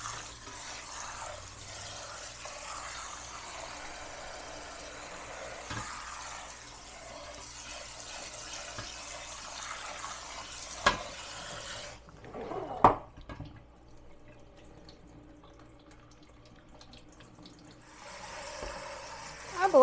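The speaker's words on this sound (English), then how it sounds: "So put some cold water to this." Cold tap water runs over boiled poke sallet greens in a small drainer in a kitchen, a steady splashing stream with clinks and a bump before the flow cuts off, then resumes near the end.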